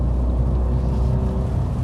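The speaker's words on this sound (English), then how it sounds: "The little engine's struggling now." A Fiat 500 Rockstar's small engine labours while driving through Storm Dennis, a loud low drone with rough rumble and wind and road noise, steady throughout this short stretch without speech.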